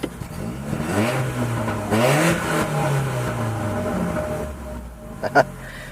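A warmed-up quad bike engine revs up and down close by, rising and falling in pitch through several surges, then drops toward idle before a couple of short clunks near the end.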